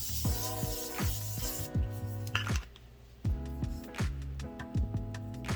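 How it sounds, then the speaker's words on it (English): Short hissing bursts of a Morphe makeup setting spray mist repeat at irregular intervals over steady background music. "Go in with the Morphe spray"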